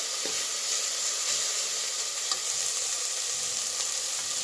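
Ginger garlic paste fries in hot oil in a pan for a soya bean curry, giving a steady, close, even sizzle and hiss throughout with a few small crackles and no talking.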